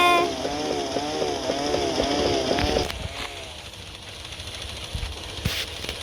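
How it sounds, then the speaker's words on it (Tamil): A chainsaw cuts through a big tree in a video game, its engine whining with a wavering, revving pitch for about three seconds, then dropping to a low rumble with a few faint knocks. "பெரிய மரத்தையே வெட்ட முடியுது"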